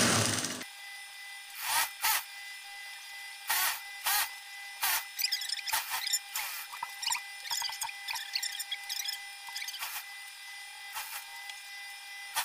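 Sewing machine stitching through a blazer collar at half-inch seam allowance, heard as bursts of quick mechanical clatter separated by short pauses, with light rustling of fabric between runs and no talk.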